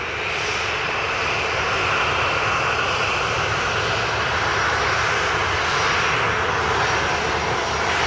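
Jet airliner taking off from runway 07 at Montego Bay, Jamaica, its engines a loud, sustained roar that stays constant and close throughout, with no talk.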